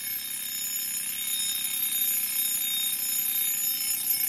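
An old wind-up mechanical desk alarm clock ringing, its bell sounding as a continuous, dense, bright metallic ring that holds steady and unbroken throughout, with no talking.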